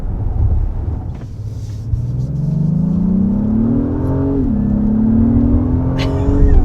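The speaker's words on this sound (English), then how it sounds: "There's a strong turbo sound, so that's really cool." A 2022 Acura MDX Type S SUV engine accelerating with a strong turbo whine that climbs steadily, dips at a gear change, then climbs again, heard from inside with wind noise.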